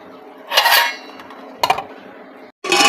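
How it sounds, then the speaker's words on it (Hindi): Small bowls set out on a kitchen counter make three quick clinking clatters, close and fairly loud, with quiet gaps between them. "ये अभी इधर लगाते हैं थोड़े छोटी कटोरियाँ, जो कि सुबह निकाली हुई थी।"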